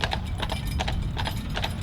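Draft horses at work produce quick, steady clip-clopping hooves, close and continuous over a low rumbling background.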